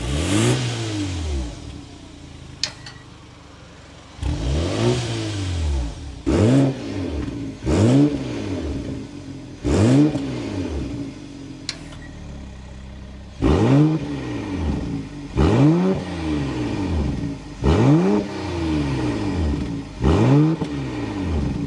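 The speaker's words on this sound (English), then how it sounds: "so you can hear that exhaust note" A 2025 BMW 330i/M340i exhaust rises and falls in repeated revs, about eight sweeping blips of the engine climbing then dropping back to idle, loud and close with no talk.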